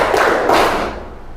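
A group of people claps twice in unison on a spoken cue, two loud, slightly smeared bursts about half a second apart, then the room settles into quiet.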